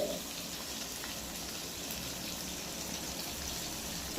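Chicken gravy fries in a pan with a steady, close crackling sizzle that runs evenly throughout, with no talking over it.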